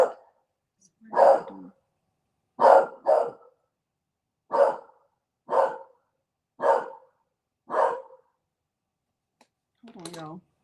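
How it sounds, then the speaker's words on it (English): A male dog barks seven times at fairly even intervals, each bark loud, close and separated by short silences. A brief higher sound follows at the end. "If the person who's here is upset about me having a dog or him barking, go find something else to do"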